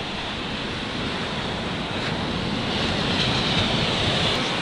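Sea waves breaking on the shore at Kranz: a steady, dense wash of surf that swells slightly louder toward the end, with wind rushing over it and no voices.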